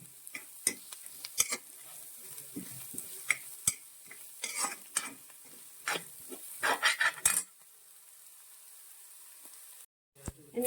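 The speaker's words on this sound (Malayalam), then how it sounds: "നമുക്ക് ഇതിലേക്ക് കൂർക്ക ഇടുവാണ്" Chinese potatoes (koorka) are stirred into frying crushed onions and chillies for a stir-fry. A spoon clatters and scrapes irregularly against the pan over a low sizzle, then the pan goes quiet near the end.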